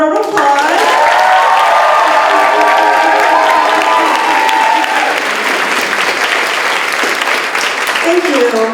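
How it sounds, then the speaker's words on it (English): Audience applause and cheering fill a fashion show venue, loud and sustained throughout, with a sung or spoken voice carrying over the crowd for the first few seconds before the clapping continues alone. "Let's give them another round of applause."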